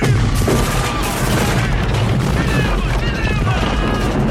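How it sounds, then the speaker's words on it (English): A rapid barrage of loud booms and blasts from an M67 grenade and following explosions in a film scene, dense and continuous, with voices partly audible beneath. "He throws the M67 grenade there and like several explosions happen."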